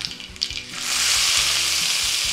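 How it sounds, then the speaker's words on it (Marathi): Onion and garlic with mustard seeds, cumin and asafoetida fry in oil on a tawa griddle, starting with a few stirring scrapes and pops before settling into a loud, continuous close-up sizzle. "हा कांदा सोनेरी रंगावर छान परतून घ्यायचा आहे"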